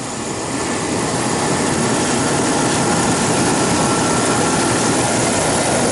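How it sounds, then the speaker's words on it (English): A walk-in cooler's compressor and fan at a Mexican market run steadily, making a loud, dense, continuous mechanical drone and whoosh that holds without a break and has no voices over it. "I'm going to push this down, and the compressor will probably start up"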